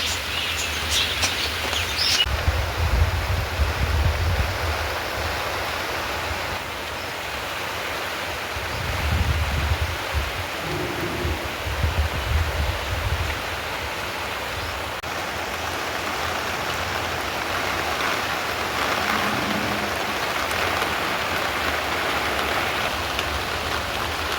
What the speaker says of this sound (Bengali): দেখো কাণ্ড, নিমিষের মধ্যেই বৃষ্টি চলে এলো।